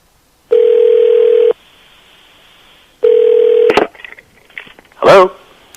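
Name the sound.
telephone number being dialed, DTMF tones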